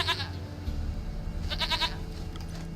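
A goat in The Witcher 3: Wild Hunt gives two nearby bleats, a short one at the start and a longer wavering one a moment later, over a low ambient background.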